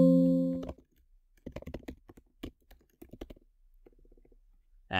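Computer keyboard typing while entering tasks into project planning software, clusters of quick close clicks in bursts with pauses, after a short loud opening sound.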